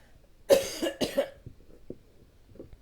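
Two harsh coughs in quick succession, close to the microphone, followed by a few soft breaths and throat sounds.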